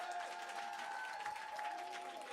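Applause and crowd noise on a Logitech G gaming co-stream, greeting a DJ, stays quiet and steady for about two seconds over faint sustained tones.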